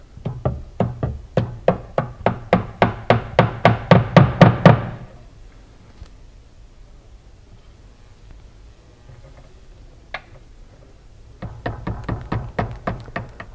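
A hammer taps a drawer track into place rapidly and steadily, about twenty blows growing louder, then stops; after a quiet pause, another burst of quick taps follows.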